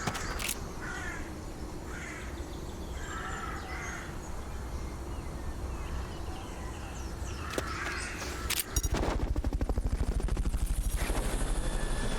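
A video game helicopter's rotor chops steadily throughout in Metal Gear Solid: Peace Walker HD, with crow-like caws early on and a louder, more rhythmic thumping surge near the end.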